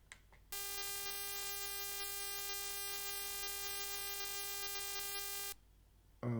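An intercepted radio frequency signal plays back as a steady, buzzing multi-tone drone lasting about five seconds over faint static hiss.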